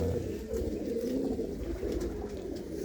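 Pigeons kept by a fancier coo in soft, repeated low throaty calls, close and continuous, layered over a steady background murmur.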